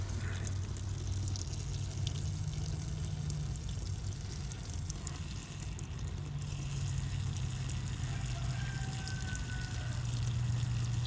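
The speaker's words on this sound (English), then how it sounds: "let it leak, let it drain out. That'll get the diesel out of the system." Diesel drains from the fuel system of a Ford 2000 tractor into a catch pan, a steady trickling and splashing of liquid that stays fairly even throughout, with no talk.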